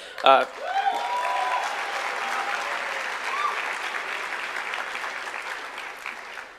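An audience at a university talk at the University of California, Santa Barbara breaks into sustained applause, a dense wash of clapping from a large room that holds steady for several seconds after a sharp opening clap.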